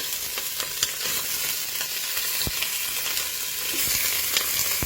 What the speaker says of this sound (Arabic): اول حاجه انا بحب اشوح الايه اللحمه الاول قبل ما ايه ما تتسلق